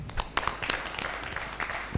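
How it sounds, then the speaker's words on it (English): A conference audience gives a brief round of applause, scattered claps from a modest group, uneven and moderately loud, fading after two seconds. "I ask my colleagues to give you a round of applause"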